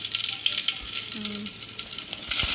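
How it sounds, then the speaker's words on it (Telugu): Onions sizzle in a hot pan at home, a steady close frying hiss with a few faint clinks and a brief tonal hum partway through, growing slightly louder at the end, with no talking. "ఆనియన్స్ వేసి బాగా ఫ్రై చేసుకోవాలి వాటిని"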